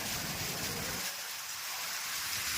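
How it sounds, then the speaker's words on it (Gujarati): Heavy storm rain pours down in Chalala, Gujarat: a dense, steady roar of falling water that fills the whole clip. The low rumble drops away after the first second. "જોરદાર વરસાદ વાવાઝોડા સાથે।"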